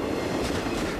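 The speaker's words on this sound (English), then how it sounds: "We saw this train going through Findlay and heading south down through Arlington." A runaway 47-car CSX freight train rumbles past on rails as a steady, loud, dense roar with a faint rhythmic wheel clatter, and no voices.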